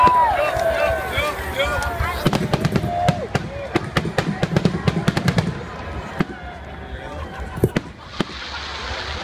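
Fireworks at a music show go off as a rapid string of sharp, loud cracks and bangs. They pop in dense bursts for several seconds and then thin out to scattered reports over a rumbling crowd-like background.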